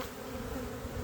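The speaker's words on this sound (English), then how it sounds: "the rest of these bees, we'll just put them right back in" Bees trapped under a cup during a varroa mite check, giving a continuous close, loud droning buzz with a steady pitch.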